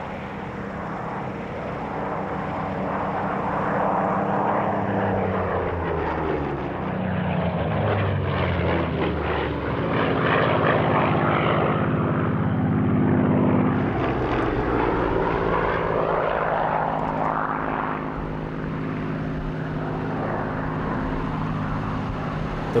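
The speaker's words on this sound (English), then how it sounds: "Next to display are the Spitfires, Mark II and Mark V of the BBMF." Spitfire Mark II and Mark V fighters of the Battle of Britain Memorial Flight make a flying display at the Duxford airshow, their piston engines droning loudly and rising and falling as they sweep past overhead.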